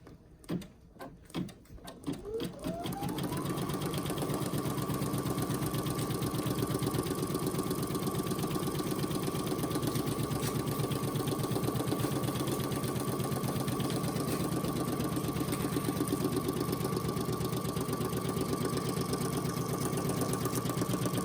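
Brother PE800 or NQ1700e embroidery machine starting up after a few clicks, then settling into a steady, rapid mechanical stitching whir with a constant hum, running alone for the whole stretch.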